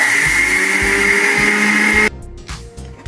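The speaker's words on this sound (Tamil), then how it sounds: "இந்த மிக்சி ஜாடியை மூடி இவனுங்களை எல்லாரும் உள்ள தள்ளி அரைக்கணும்" A kitchen mixer grinder runs at full speed for about two seconds, grinding whole spices for Udupi rasam powder with a loud steady whine, then cuts off abruptly, leaving faint rattling as the jar settles.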